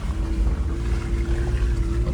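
Off-road car engine revving on a muddy track, a low steady drone with a constant whine and rumbling wind-like noise, close and even throughout without talk.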